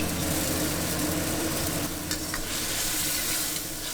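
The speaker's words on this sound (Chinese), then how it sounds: "开始炒番茄，倒入番茄丁儿，一边炒一边按压，能更好的出沙。" Diced tomatoes stir-fried in oil in an unwashed pan and pressed down as they cook, a steady close sizzle with the scrape and stir of a spatula throughout, no voices.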